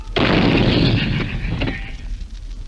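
An artillery gun firing its first shot, a single loud, close boom with a sharp onset that rolls into a long, fading rumble over about two seconds, no talk.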